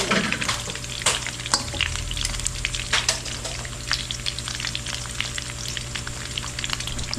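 Food frying in a pan during a home cooking session, oil crackling and popping in a dense run of sharp splatters over a constant sizzle, close and fairly loud.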